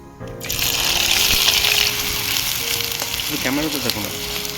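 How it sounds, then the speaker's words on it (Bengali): Chopped onion, whole cumin and bay leaf drop into hot oil with a sudden loud burst of sizzling that holds as a dense, close crackle, while a spoon scrapes and stirs the pan for a chicken kosha. "তেলের মধ্যে দেবো গোটা জিরে আর দেবো পেঁয়াজ কুচি"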